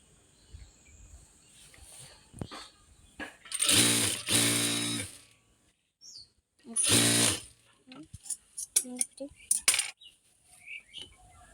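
A domestic sewing machine, freshly threaded, runs in two short whirring bursts of a few seconds each, close and fairly loud, with light clicks and handling noises in the quieter gaps between.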